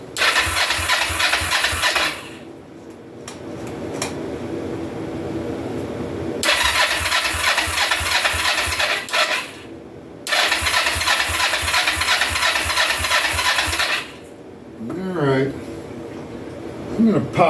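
A 2004 Kawasaki Vulcan 500 motorcycle engine cranks and catches, running in loud repeated bursts of rough idling that die back between attempts, recorded up close.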